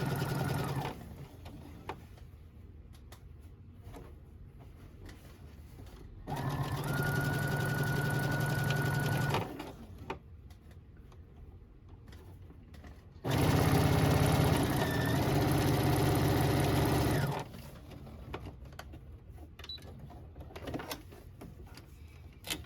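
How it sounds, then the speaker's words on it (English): A sewing machine runs a stitch through fabric and rickrack in two steady whirring bursts of several seconds each, close and fairly loud, with quieter handling sounds between. "I'm going to run another stitch, basically the same."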